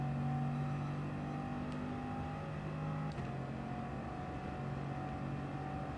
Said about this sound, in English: he's slowing down on purpose because that car is fast